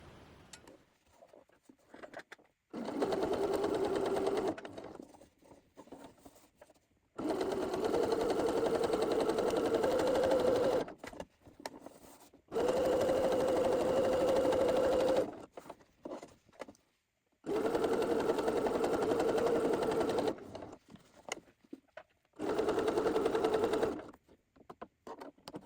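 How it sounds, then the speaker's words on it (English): A home sewing machine stitches a collar seam at a 5/8-inch allowance in five steady runs of several seconds each, a close, even mechanical whir separated by short quiet pauses. "we're going to go from the large dot down and around along this double notched edge, sewing it at 5/8 of an inch seam allowance"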